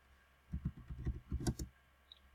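Quick bursts of typing on a computer keyboard while entering a search, a short run of close, crisp key clicks with a brief pause between them.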